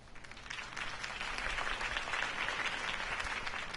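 In a PS4 video game, a crowd applauds continuously, a dense wash of clapping that swells slightly and holds steady for a few seconds.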